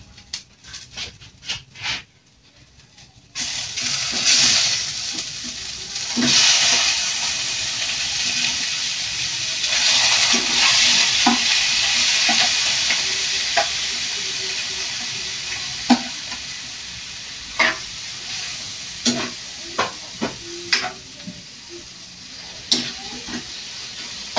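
Chopped beef innards hitting a hot pan set off a loud, steady sizzle and hiss, with sharp clanks and scrapes of stirring scattered throughout.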